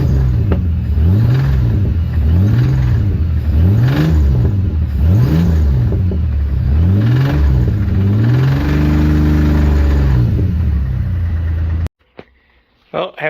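A car with an oil-starved engine drives along, its mid-pitched engine note swelling and falling in repeated surges up close before cutting off abruptly near the end.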